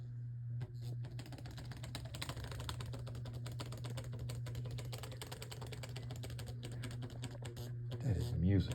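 A small motor in a 1946 Lionel postwar S-2 turbine toy train engine whirs steadily with a constant hum and rapid clicking mechanical rattle, close by, with a brief voice-like warble at the end.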